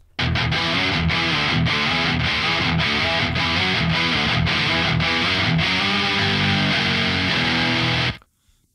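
A rock mix with distorted guitars and drums plays loud and steady while an Echo Boy echo plugin is switched on and off, then cuts out abruptly near the end.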